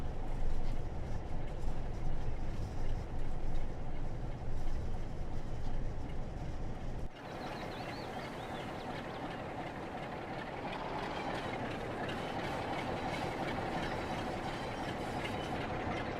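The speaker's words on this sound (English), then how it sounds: "a passing train coming in" Train arriving on the West Somerset Railway in the video game Train Sim World 4, a loud continuous rolling rumble of wheels and engine that drops abruptly partway through, then continues as a steadier hiss and clatter.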